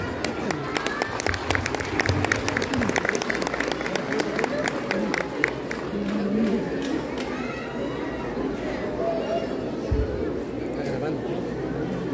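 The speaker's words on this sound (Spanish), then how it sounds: "Fuerte el aplauso" A crowd at a cultural fair in Cuacuila, Huauchinango, applauds a student dance performance from a general high school, with scattered clapping mixed into loud chatter and voices, children and movement nearby.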